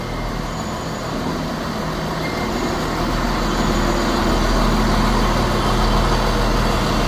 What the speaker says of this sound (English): Departing out now is the 1253 Scotrail service from Aberdeen to Glasgow Queen Street.